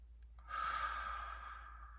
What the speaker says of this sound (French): Vous prenez des grandes respirations.